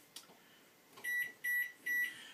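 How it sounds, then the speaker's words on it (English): Kitchen timer being set: a few faint clicks, then three short, bright electronic beeps in an evenly spaced row, close and clear over a quiet room. "I'm going to set a timer"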